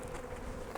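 Honeybees buzz in a steady, close drone at a hive during a fall combine of three colonies, with a slight swell at the end.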